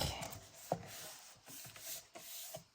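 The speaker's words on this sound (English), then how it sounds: "we can burnish it with our bone folder" A bone folder burnishes the glued spine of a paper booklet, giving a series of soft, close rubbing strokes with a few sharper scrapes, fairly quiet and with no speech.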